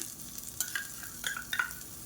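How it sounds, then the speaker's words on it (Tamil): Spices and grated coconut dry-roasting in a pan, with a soft steady crackle and light scraping as they are stirred, faint and close with no voices. "இது எல்லாத்தையுமே நல்லா வறுத்துக்கலாம். கருக விட்டுறாமல் வாசனை வர அளவுக்கு வறுத்துக்கலாம்."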